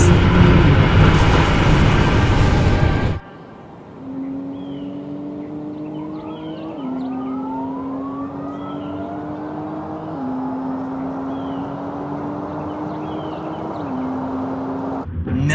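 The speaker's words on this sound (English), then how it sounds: "Now let's see what this Rimac does to that very fast Porsche." A Rimac electric car launches hard after a loud burst of noise, letting out a rising electric motor whine that climbs in stepped pitch for about ten seconds, clear and close with no talk.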